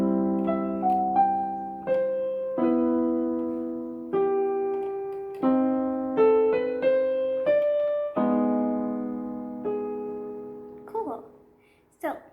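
Piano plays a theme from the film IT with both hands together: slow sustained chords under a simple high melody, each note struck cleanly and left ringing, close and alone, ending with a brief quiet tail.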